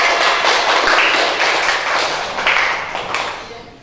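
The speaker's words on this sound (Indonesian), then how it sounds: "Kita beri tepuk tangan." Classroom applause for the first, second and third place quiz winners during a university lesson: a burst of clapping that starts loud and thins out over a few seconds, with no voices.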